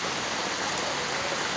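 Heavy rain from a Kalbaishakhi storm pours down steadily in a flooded neighbourhood, a dense, even hiss with no talk and no break.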